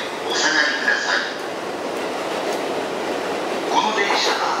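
A train pulls out from a platform at Tokyo Station, a low rolling rumble with some wheel noise under a station announcement, with metallic tones rising near the start and end.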